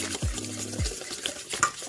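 A whisk scrapes and stirs homemade cosmetic cream in a bowl, giving two low sweeping strokes followed by lighter clinks and swishes, close and moderately loud with no talking.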